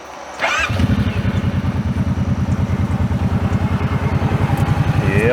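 A 2024 Kawasaki Brute Force 750 LE ATV engine revs up and pulls away, a steady loud throbbing exhaust close by that builds slightly in pitch as it drives off.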